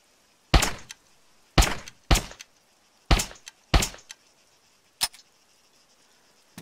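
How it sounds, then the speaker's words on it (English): Weapon jams in ArmA 3: six sharp, dry mechanical clicks and clacks, spaced irregularly and standing out clearly against a quiet background, each ending quickly. "Gotta love the weapon jams."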